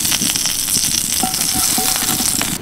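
Oil and water brushed onto a hot clay griddle for rice-flour chitoi pitha give a steady, close sizzle with small crackles and faint brush strokes, no voices.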